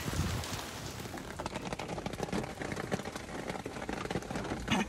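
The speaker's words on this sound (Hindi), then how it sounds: "बारिश थोड़ी तेज़ हो रही है, आवाज़ आ रही होगी" Heavy rain patters fast and dense on surfaces outdoors during a dark storm, a steady crackling wash with irregular louder drops, and no talking.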